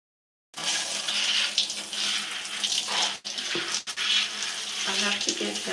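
Shower water runs continuously while conditioner is rinsed out of hair, a loud close hiss and splatter that starts abruptly and briefly breaks twice as the flow is interrupted, with a voice faintly underneath.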